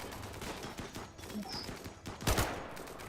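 Gunfire in the video game RimWorld: a busy, dense mix of shots and impacts throughout, with a sharper, louder burst near the end. No voices.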